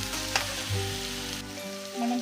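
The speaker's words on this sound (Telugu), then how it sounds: "ఇలా ఉల్లిపాయల్ని పక్కకని ఆయిల్లో వేయించుకోవాలి" Onions with ginger garlic paste frying in oil in a pan over a low flame, giving a steady close sizzle with a soft stirring clink near the start and no talking.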